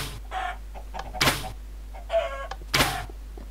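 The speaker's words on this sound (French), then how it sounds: "les poules spawnent beaucoup plus vite" Video game chickens cluck and squawk in a few short separate bursts, fairly close, with quiet pauses between calls.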